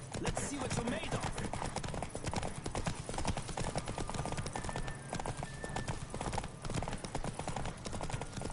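Rapid hoofbeats of a horse galloping in a race in The Witcher Wild Hunt, a steady driving clip-clop under dense game music and ambience, with an occasional whinny.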